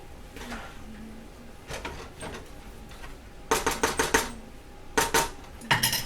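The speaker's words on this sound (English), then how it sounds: "just a quick little stir" A quick stir of chicken fried rice in a pan, with a metal utensil scraping and clinking against the pan in short bursts, the last few strokes louder and rhythmic.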